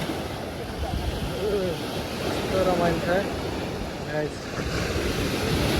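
Ocean waves wash onto a beach in a steady surf roar with wind buffeting the microphone, while people talk and exclaim over the top.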